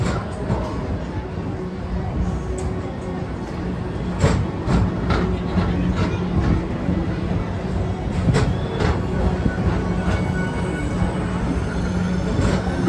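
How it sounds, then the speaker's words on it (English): A Tomorrowland Transit Authority PeopleMover ride train at Magic Kingdom rolls along its track with a steady low rumble and occasional soft clacks and knocks, close and continuous, with faint voices in the background. "Welcome aboard the People Mover, presented by Enterprise."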